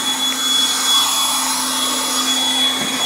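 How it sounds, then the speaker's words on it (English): A Milwaukee M12 compact spot blower runs on its high setting, producing a loud, steady whooshing roar with a thin high whine, close by and without pause. "Let's go to high. You know, it's pretty powerful."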